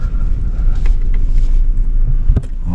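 A car engine idling steadily nearby after arrival at a house in the rain, a low continuous rumble with faint patter and a brief knock.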